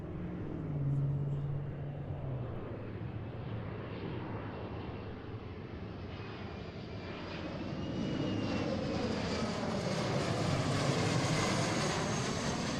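An Embraer 175 airliner arrives at Seattle airport on a windy afternoon, its engine roar and whine heard from a distance, building gradually as it approaches and passes.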